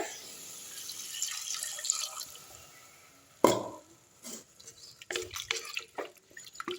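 Water trickles and drips into a container, with a sudden splash midway followed by a few uneven pours and clinks, close by and alone.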